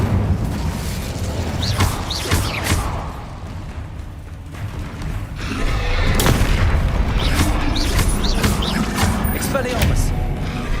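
Incendio fire spell cast during combat in the Hogwarts Legacy video game, heard as booming magical bursts and thuds amid a busy, continuous battle soundscape, with someone shouting spell names over it.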